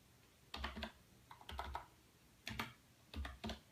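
Someone types on a computer keyboard in soft, quiet bursts of keystrokes, with short gaps between the groups of clicks.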